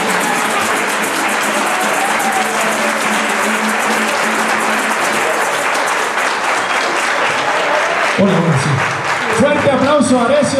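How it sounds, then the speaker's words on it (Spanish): Loud, dense audience applause fills a Colombian music celebration, steady and unbroken throughout, with a few voices rising near the end. "Fuerte aplauso a Arecio Pajarés"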